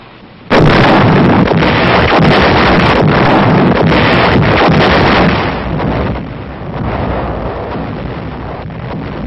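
Wartime artillery fire during a mountain ridge battle, heard as a loud, continuous roar of heavy booms and rumbling blasts that swells suddenly and stays dense before easing off, with no talk.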